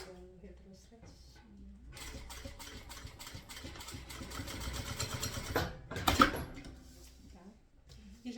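Sewing machine stitching a straight bag seam at stitch length 3.5, a fast steady mechanical chatter of several seconds that starts abruptly, with a brief backstitch burst near the end and a voice talking before and after.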